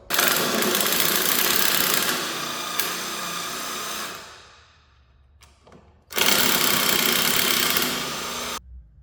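A power drill whirs loudly as it bores out stripped Phillips screws on a Suzuki LT80 quad, running steadily, dropping away briefly, then revving up again before cutting off; no talking.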